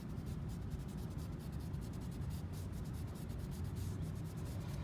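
Steady, continuous abrasive sanding on a curb-damaged 18-inch Tesla Model 3 alloy wheel, a close, even rasping that runs uninterrupted with no talk.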